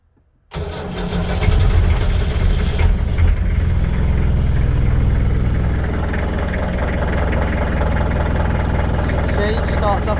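Land Rover Series 3, left standing about a month, cranks briefly and catches, then settles into a loud, rough, close idle that keeps a steady low rumble throughout.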